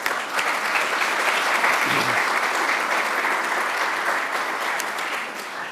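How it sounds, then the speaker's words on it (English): Loud, sustained applause from a crowd at an engineering awards ceremony, a dense wash of clapping that holds steady throughout and tapers only slightly at the end. "let's give them a round of applause"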